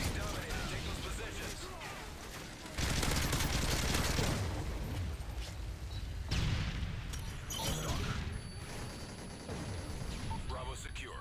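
Gunfire rattles through a Call of Duty: Modern Warfare 3 match, with bursts of shots and booming impacts in loud clusters, a dense volley in the middle and more scattered cracks later.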